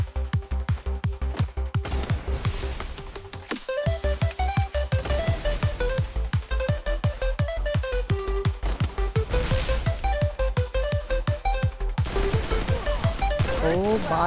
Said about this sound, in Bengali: সৌরভ বাইরে এমপি ফোরটিকে মেরে দিল